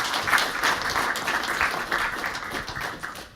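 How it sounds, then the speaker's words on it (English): A corporate event audience breaks into warm applause to welcome a speaker, a loud, steady bed of many hands clapping that holds for several seconds before beginning to thin out. "So if we could have a round of applause to introduce Mr."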